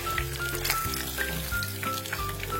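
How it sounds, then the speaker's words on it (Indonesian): The body of a gourami fish fries in hot oil with a steady, close sizzle and crackle that runs throughout, no voices over it. "Nah ini ikan gurame ya yang badannya lagi saya goreng."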